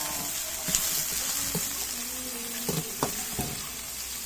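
Chopped tomatoes sauté in hot oil for spinach with sardines, giving a soft, steady sizzle with faint stirring clicks and scrapes in a quiet kitchen.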